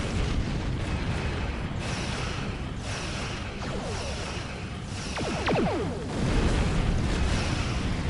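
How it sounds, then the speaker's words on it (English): Large explosion in the space combat game Star Trek Online, a ship-to-ship battle against a much bigger vessel: a continuous loud rumbling roar with bursts and whooshing sweeps, swelling louder toward the end. "Large explosion."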